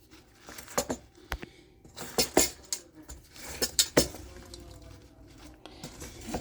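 Apple and pecan cobbler filling is tossed in a bowl, giving a string of close clinks, taps and soft squishy knocks in an irregular rhythm, with no talk.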